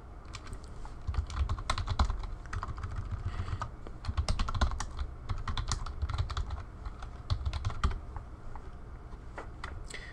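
Rapid, irregular typing on a computer keyboard while entering a forum topic title, with close, crisp key clicks in continuous bursts and no talking.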